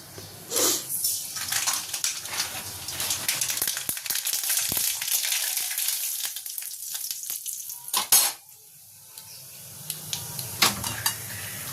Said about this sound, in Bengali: ফোড়ন, পেঁয়াজ ফোড়ন